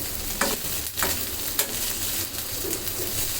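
Sardine fish frying in a pan, a steady close sizzle with a few brief scrapes and bursts of spattering in the first two seconds, then an even crackle.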